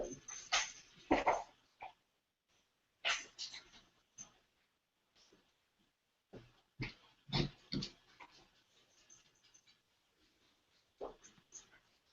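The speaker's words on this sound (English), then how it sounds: "Does the dog want to join the interview?" A dog whimpers and whines in short, breathy bursts close by, separated by brief silences, during an indoor interview.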